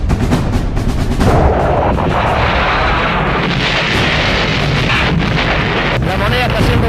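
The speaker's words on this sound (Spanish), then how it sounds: "los tanques están disparando con sus bombas" Archival recording of tanks firing and aerial bombing of La Moneda presidential palace in Chile, dense rumbling blasts and booms with wind buffeting the microphone, loud and continuous for several seconds.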